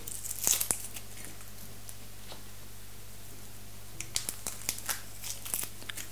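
A shallot halved with a knife is peeled by hand, soft crinkling and tearing of dry papery skin in scattered close bursts over a faint steady background hum.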